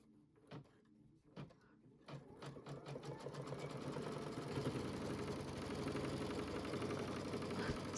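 An embroidery machine stitching fabric down for an in-the-hoop bowl cozy, starting with a few separate clicks before building into a steady, rapid mechanical whirring hum that continues close and fairly loud.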